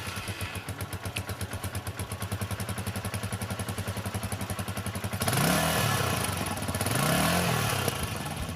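A Keeway RK 125 single-cylinder, air-cooled four-stroke motorcycle engine idles with a steady, close putter, then gets revved twice in quick swells, rising and falling, with no one talking.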